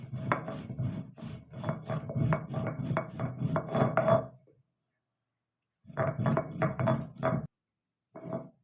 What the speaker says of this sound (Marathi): जिरी बारीक करून घ्यायची जिरी बारीक करून घेतली ना चव छान लागते भाजीला